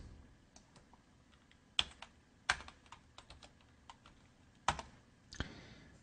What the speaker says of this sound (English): if I type about us